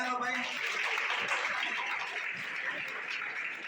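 Applause rings out for a student honoured at an award felicitation in Jagatsinghpur, a steady, continuous clapping from a crowd that lasts the whole stretch at moderate loudness.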